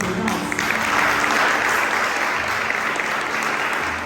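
A church congregation applauds during a Portuguese-language service, steady dense clapping filling the whole stretch at close, loud level.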